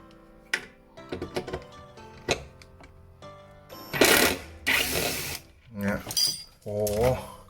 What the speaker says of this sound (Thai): ไขควงไฟฟ้าตัวนี้แรงมันจะอ่อน เนี่ยหมุนไม่ไปเลยนะต้องมาใช้พี่ใหญ่